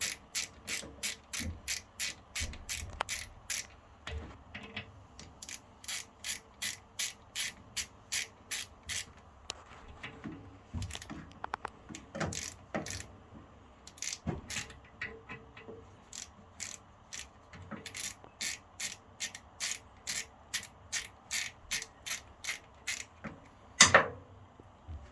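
Ratchet wrench loosening the blade bolts on a TW150 wood chipper, a long run of rapid close clicking bursts in steady repeated strokes with brief pauses between them.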